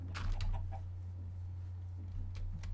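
A chicken clucking in Minecraft, a few short clucks near the start and a couple more near the end, fairly close, over a steady low hum and with no talking.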